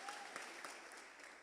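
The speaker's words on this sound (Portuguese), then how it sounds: "Pode aplaudir o Senhor." A church congregation bursts into a brief round of applause, moderately loud and even, quickly settling.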